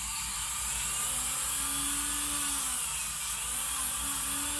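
An electric nail grinder trimming a dog's nails, a steady high-pitched motor whine that holds constant with slight dips in pitch as it presses against the nail, close and fairly loud.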